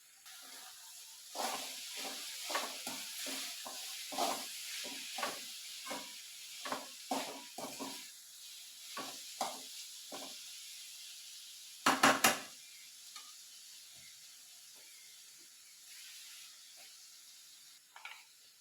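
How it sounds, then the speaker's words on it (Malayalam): Mustard and fenugreek seeds splutter in a hot pan as ivy gourd is stirred, making scattered sharp crackling pops with a short denser burst, fairly faint against a quiet background. "നമ്മുടെ കടുകൊക്കെ പൊട്ടിക്ക�ൊണ്ടിരിക്കുന്നു."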